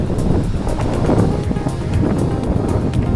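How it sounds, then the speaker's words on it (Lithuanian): Strong wind buffeting the microphone while gravel cycling on roads, a loud, continuous low roar with gusting surges and no talking. "Vėl vėjas."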